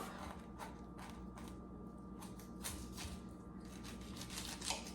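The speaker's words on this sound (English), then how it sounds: "And now I like to cut that one in half" Quiet, close crunching and slicing as a knife cuts a sweet pineapple in half, with several short fibrous cuts in an irregular rhythm under a faint steady hum.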